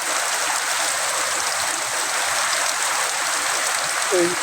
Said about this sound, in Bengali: ব্যাপক বৃষ্টি দেখেন আপনারা